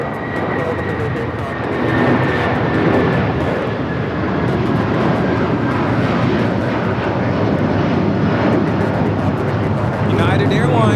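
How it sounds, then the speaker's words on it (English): A United Airlines Boeing 757-300 takes off at Los Angeles airport with a sustained, loud jet-engine roar that stays steady throughout, and faint whining tones ride on top. "United Airlines 1635 taking off to Washington Dulles on the 757-300"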